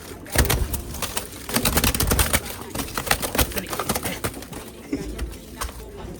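Racing pigeons in a loft or yard, with repeated bursts of wing flapping and soft cooing over rustling, fairly close and steady, with someone talking intermittently.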